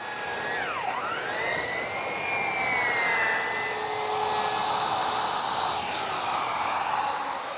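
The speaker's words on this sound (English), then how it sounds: "Here I'm just rounding over the ends of the base to get rid of the sharp corners." A handheld router with a quarter-inch radius round-over bit whines steadily as it rounds the ends of a wooden base in a workshop, a loud continuous high motor tone with the pitch dipping briefly under load.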